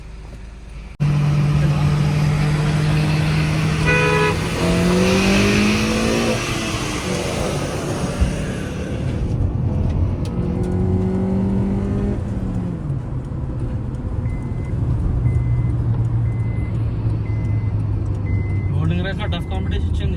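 Hyundai Verna diesel and Honda Accord i-VTEC in a rolling race from about 20, engines droning and climbing in pitch through gear changes with road and wind noise, while a voice talks over much of the run.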